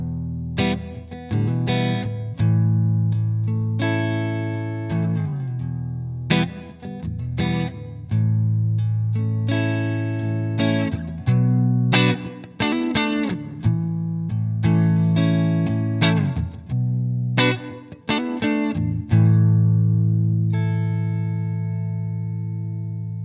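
An electric guitar plays chords and single notes through the room reverb setting of a Mooer R7 reverb pedal, drenched in reverb, each strum trailing off in a short ambient tail.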